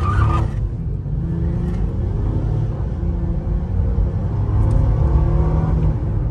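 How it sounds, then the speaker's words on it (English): A 2016 Acura MDX engine running smoothly just after a full tune-up, a steady low rumble and whir heard from inside the vehicle, even and continuous with slight swells, no voices. "And engine sounds smoother."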